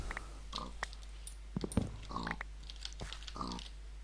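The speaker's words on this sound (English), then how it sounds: "Oh, a pig with a hat." A pig in a Minecraft modpack gives short grunts and snorts, a few brief bursts, faint against a low steady hum and scattered keyboard clicks.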